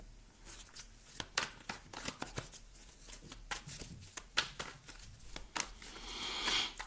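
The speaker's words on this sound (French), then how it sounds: "On va aller ajouter des cartes ici." Tarot cards are handled and laid out in a spread, with quiet, irregular paper flicks, slides and shuffling rustles close by and no talking.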